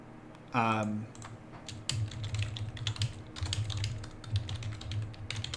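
A computer keyboard clacks in quick irregular bursts of keystrokes, close and fairly clear, while someone talks over it.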